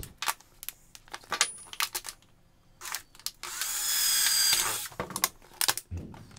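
A short whining burst of a drill boring into a plastic bottle for about a second, surrounded by scattered clicks and handling knocks.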